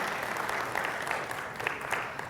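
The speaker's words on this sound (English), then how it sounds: "So let's give Nancy a round of applause." An audience in a hall gives a sustained round of applause for a woman named Nancy, dense, even clapping from many people with a few sharper claps standing out.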